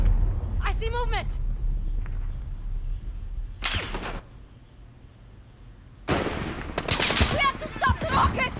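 Gunfire in Call of Duty Modern Warfare rings out in a dense rapid burst near the end, with a brief shot cluster earlier, amid game voices and shouted callouts.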